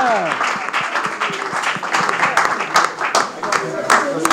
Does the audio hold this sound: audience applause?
yes